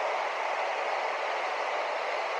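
A steady rushing rumble of a Singapore metro train in motion toward Orchard Boulevard station, constant and unbroken throughout, with no voices.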